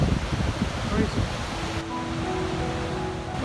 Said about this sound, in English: I love being out here and seeing these waves coming in like this and crashing against rocks.